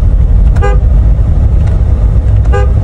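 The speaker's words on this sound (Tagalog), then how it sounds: "Yung horn button." A Toyota Corolla's horn gives two short toots, about two seconds apart, over a loud, constant engine rumble from inside the vehicle.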